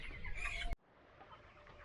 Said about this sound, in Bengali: এই যে দেখছো আমি এখন মুরগা মুরগিটাকে আলাদা করছি